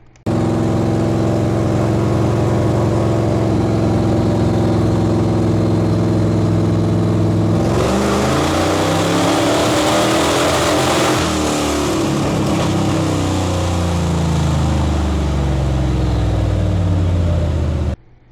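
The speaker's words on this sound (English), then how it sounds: "This video is what that sounds like on the dyno, just holding it to the floor, trying to get through it." A 1974 Plymouth Cuda V8 held at full throttle on a dyno, first a steady loud harmonic drone, then a sudden surge into a harsh, roaring high-rpm wail that climbs and holds for about ten seconds before cutting off abruptly.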